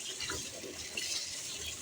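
Green onions rinsed under a running kitchen tap, a steady close hiss of flowing water splashing over the leaves with no voices.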